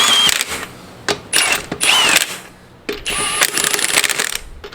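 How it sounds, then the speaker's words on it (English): An impact wrench runs lug nuts down on a GM SUV wheel in a series of short bursts of loud rattling hammering, separated by brief pauses, close up. "I'm just going to run them down with this impact"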